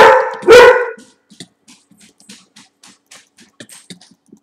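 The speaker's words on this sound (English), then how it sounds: "Oh, no, that's my dog." A dog in Minecraft gives two loud, close barks in quick succession, followed by a string of soft scattered clicks and small game sounds.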